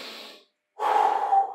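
Heavy, forceful breathing during a no-jump total-body toning workout: one strong breath, a brief silence, then a longer, louder exhale, close and with no talk.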